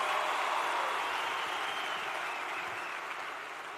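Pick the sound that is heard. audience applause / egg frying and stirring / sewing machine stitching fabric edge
audience applause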